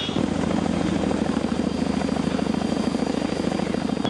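An Apache attack helicopter flies close by, its rotor blades thudding in a steady, loud, rapid rhythm with a constant engine whine and no talking.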